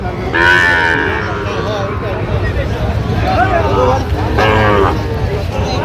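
Sahiwal cattle at a farm market moo in two long, loud, close calls, heard over a low murmur of crowd voices and background bustle.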